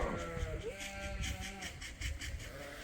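Reluctant Suffolk sheep bleat as they are moved on a farm, with a few wavering calls rising over a busy background of shuffling and low noise while a person speaks.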